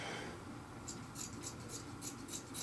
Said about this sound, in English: Give her a good old cut up the middle.